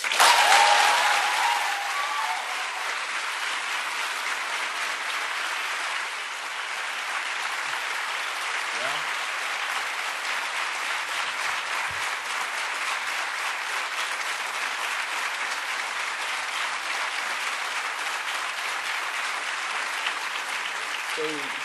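An audience at a student presentation applauds, a sustained, even clatter of many hands clapping that starts loudest and carries on steadily for over twenty seconds.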